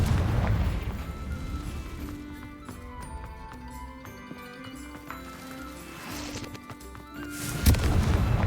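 Confringo spell explosion in the Hogwarts Legacy game, a booming blast at the start fading into low rumble and soft game music, with a second sharp burst near the end.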